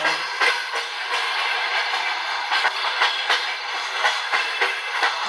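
A train rolls past close by, a steady rumbling hiss broken by rhythmic clacks of wheels over rail joints.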